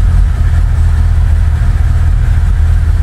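A 1993 Volkswagen Santana with a modified 2.0 engine making 422 wheel horsepower runs steadily nearby, a loud, deep, continuous rumble with no talking.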